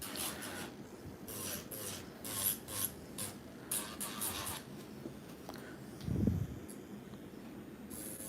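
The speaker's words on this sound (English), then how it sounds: "then we're going to file" Hand filing of a nail bed while preparing for acrylic nails, heard as close, soft rasping strokes in uneven bursts with a brief louder low thump near the end.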